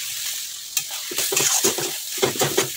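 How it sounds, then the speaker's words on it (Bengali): Fried onions with spices being stirred in a pan before tomato goes in, a close sizzle broken by a quick run of spatula scrapes and strokes, no voices. "এই যে দিয়ে ভালো করে নাড়াচাড়া করছি।"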